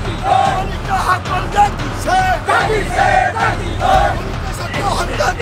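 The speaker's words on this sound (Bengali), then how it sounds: "UPPL হাই হাই, প্রমোদ বড়ো মুর্দাবাদ, হিমন্ত বিশ্ব শর্মা মুর্দাবাদ আদি স্লোগান দিয়ে পরিবেশ উত্তাল করে তোলে" Crowd of protesters chanting political slogans in unison at a rally and procession, loud rhythmic voices rising and falling with shouted calls and responses throughout.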